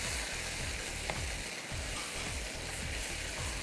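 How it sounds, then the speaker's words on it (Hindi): Masala spices frying in a pan for makmali chops, a steady close hiss and sizzle throughout with faint periodic stirring scrapes. "बस यहाँ हमारा मसाला भून रहा है"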